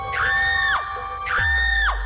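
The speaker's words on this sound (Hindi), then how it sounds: "एक दिन अचानक मेरी जोर जोर से अपने कमरे में अजीब अजीब आवाजों में चिल्लाने लगती है।" Loud, close, drawn-out shrieks in a horror story, two long wavering screams with a short break between them and no speech.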